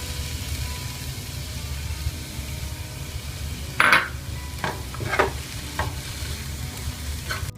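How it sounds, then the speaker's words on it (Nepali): Diced capsicum frying with pav bhaji masala for street-style pav bhaji gives a steady, close sizzle, with a few clinks and scrapes from stirring in the pan. "यसरी फ्राई गरौँ मसलाहरूसँग क्याप्सिकमलाई"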